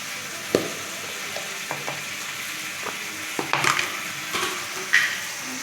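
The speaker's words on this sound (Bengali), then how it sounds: "জিরে গুঁড়ো এই যে দিয়ে আবার আমি নাড়তে থাকলাম" Cumin powder stirred into a hot pan sizzles and fries close up, with scattered scrapes and clicks from the spoon and a few sharper taps, no voices, while cooking a light curry of singhi fish with potol and potato.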